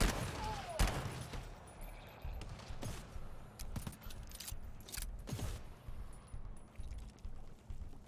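Guns crack in scattered sharp shots inside the co-op shooter GTFO, including a revolver, with irregular bursts punctuating a dense, noisy game background.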